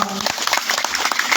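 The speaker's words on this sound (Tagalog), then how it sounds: "let's put our hands together to our member, Johnny Young" An audience at a Tawag ng Tanghalan talent show in Tanza claps for an incoming guest, a dense, bright wash of many hands at close range, lively and sustained.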